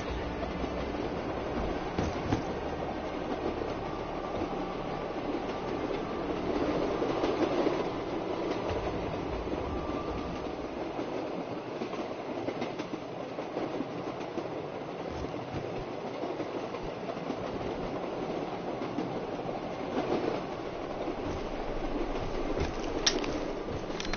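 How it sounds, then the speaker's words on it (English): A train riding along its rails, a steady rumbling roll with continuous clickety-clack over the track joints, heard up close and alone for a long stretch. "Maybe I should just keep riding the train."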